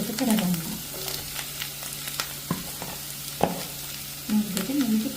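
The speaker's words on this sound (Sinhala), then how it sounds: "මේ විදිහට නිවිති ටික එකතු කරලා එකක් හොඳට තෙම්පරා වෙන්න වෙනවා." Spinach being stir-fried in hot tempering oil gives a soft, steady sizzle with scraping stirs and a couple of sharp utensil knocks against the pan, close by and without speech.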